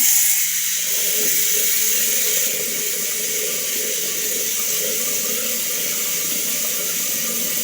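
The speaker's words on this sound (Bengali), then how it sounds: "একটু জল দিয়ে ভিজিয়ে রাখবো কিছুক্ষণ।" Water runs steadily from a tap into a cooking pot of rice set to soak for the night's meal, a continuous close rushing splash that shifts slightly in tone partway through.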